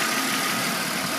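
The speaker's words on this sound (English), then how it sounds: "3 litre straight 6." A remapped 3-litre straight-six car engine idles at a nature reserve, a steady, even rumble held close and constant for the whole short stretch with no voices over it.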